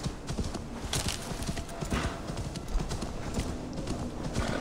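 Horse hooves clip-clopping in Assassin's Creed Valhalla, a steady galloping rhythm that runs throughout, close and fairly loud, with an occasional whinny and in-game ambience around it.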